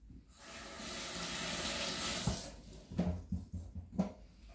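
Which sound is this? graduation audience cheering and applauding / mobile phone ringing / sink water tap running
sink water tap running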